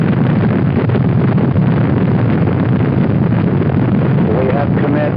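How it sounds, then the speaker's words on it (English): Saturn V rocket engines roar at the Apollo 8 launch, a dense, heavy, continuous rumble with muffled narrow-band recording, loud and unbroken throughout, with faint voices beneath. "We have ignition sequence start. The engines are on."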